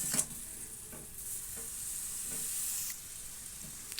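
Pumpkin leaves stir-fried in a pan give a quiet, steady sizzle, with a few scraping stirs scattered across the short stretch.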